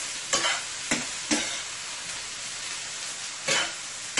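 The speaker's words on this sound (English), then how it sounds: "we are going to let this fry, saute it up nicely for about 2 to 3 minutes" Chicken sautés in a frying pan with a steady, close hiss. Sharp stirring scrapes break through the sizzle four or five times at uneven intervals, and no one speaks.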